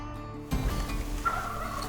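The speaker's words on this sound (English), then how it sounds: "I got there just in time that evening to locate a gobbler on the roost" A Merriam's wild turkey gobbler gobbles from its evening roost in open backcountry, a single rattling gobble ringing out clearly at moderate distance against a quiet background.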